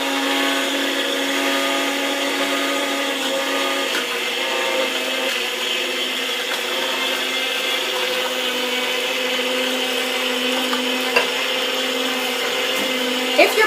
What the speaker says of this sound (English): How it's really chopping up the produce, spitting out the juice.